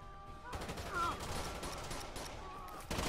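Rapid bursts of turret machine-gun fire in Rainbow Six Vegas 2 rattle on continuously at low level, a sustained fusillade with a faint voice briefly heard under it.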